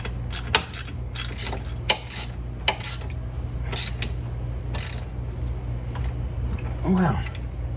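A wrench working a new nut onto a rear control arm of a Porsche 986, a series of close ratcheting clicks and metallic taps over a steady low hum, with a brief creak near the end.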